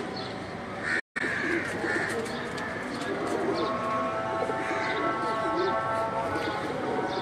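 Teddy pigeons coo low and repeatedly in a loft, the soft throaty calls layered over a busy background of other birds and faint movement.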